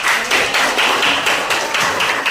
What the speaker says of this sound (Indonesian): Oke, Gun kasih tepuk tangan